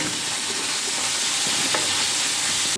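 Cauliflower and pieces of rohu fish fry in hot oil in a pan, giving a loud, dense, continuous sizzle with faint crackles and no talking.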